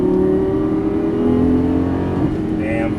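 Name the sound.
Lamborghini Gallardo LP550-2 accelerating under hard throttle on track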